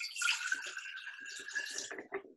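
Cold tap water poured into containers for a simple science experiment, a close, soft splashing and trickling lasting a couple of seconds, fairly quiet and without talk.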